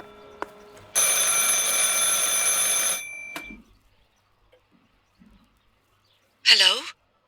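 A telephone rings in the video game Martha Is Dead: one loud, steady ring of about two seconds, then near silence and a short, bright chirp near the end.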